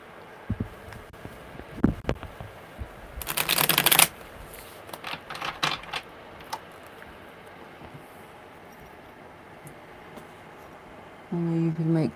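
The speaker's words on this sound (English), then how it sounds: "Okay, one more good shuffle." Tarot cards are shuffled in a quick riffle lasting about a second, louder than the surrounding quiet handling taps, with another short shuffle burst near the end.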